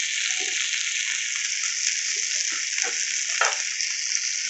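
King fish slices frying in oil in a covered pan give a steady, bright hiss and sizzle throughout, with a few soft clinks and bubbling pops underneath.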